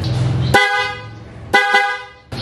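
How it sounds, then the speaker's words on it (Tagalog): A car horn honks three times, short sharp blasts with pauses between, loud and close, with a low engine hum underneath; the horn is wired to an aftermarket LED light setup. "At the same time yung kanyang DRX, tutunog din yung kanyang horn."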